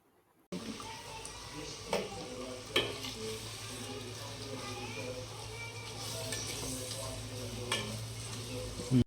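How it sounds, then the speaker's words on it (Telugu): Two large sliced onions with a little salt and turmeric frying in a pan for chicken curry, a close, continuous sizzle with scraping stirs and occasional utensil knocks after a brief quiet start. "కట్ చేసుకున్నటువంటి రెండు పెద్ద ఉల్లిపాయలు కొద్దిగా ఉప్పు అలాగే కొంచెం పసుపు వేసుకొని బాగా కలుపుకోవాలి"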